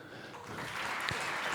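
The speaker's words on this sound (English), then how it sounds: "so I think we can start applauding" An audience at an Ignite Talks event in Aarhus starts to clap, the applause swelling from sparse hands into a fuller, steady round, with a faint voice underneath.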